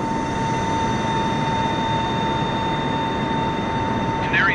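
Boeing 747 engines in Microsoft Flight Simulator 2020 produce a steady, even drone with a constant humming tone, ending in a brief chirp.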